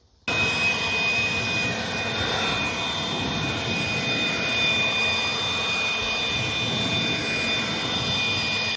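A leaf blower clears debris off a wooden deck before staining, a loud, steady roaring whoosh that starts abruptly and holds constant throughout, with no voices.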